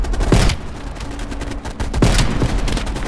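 Loud, dense gunfire fills a battle scene in the video game Call of Duty: Black Ops Cold War, with several sharp rifle cracks standing out over continuous rumbling shots and explosions, close and without talk.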